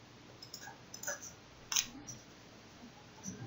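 A few sharp computer mouse clicks sound while circuit simulation software is in use, sparse and close against a quiet room hiss, with no speech.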